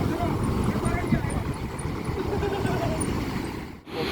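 An ALS Medan–Padang intercity bus, number 268, sits at the bus terminal with a heavy engine rumbling steadily under constant nearby traffic and crowd noise, ending in a brief dip.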